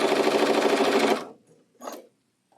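Sewing machine stitching a quilt block, a fast steady whir of stitches for about a second before stopping, followed by a brief short burst; close and loud with no talking.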